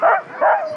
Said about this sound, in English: We have Chevelle and Beretta as our lead dogs.